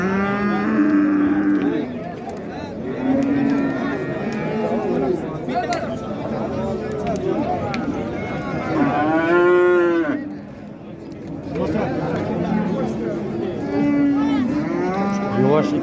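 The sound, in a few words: cow and calf at livestock market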